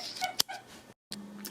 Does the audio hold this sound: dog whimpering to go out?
yes